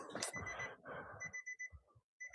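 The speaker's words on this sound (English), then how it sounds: "we'll get out of the car that keeps beeping as long as the door's open." A Nissan Altima's door-open warning chime beeps repeatedly in short, evenly spaced tones, first under close talk and handling noise, then more clearly on its own in the last second.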